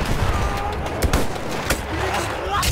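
Gunfire in Battlefield 1, a series of sharp close shots at an uneven pace over a constant rumbling battle din, with a voice talking underneath.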